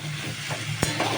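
Spiced curry sautés in a pan with a steady, close sizzling hiss, broken by a couple of brief clatters of stirring.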